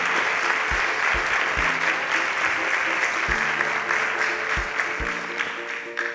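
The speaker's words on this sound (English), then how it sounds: "Please, a round of applause for our panelists." Studio audience applauding panelists on a tech competition show, a steady close wash of clapping with several low thuds, without voices over it.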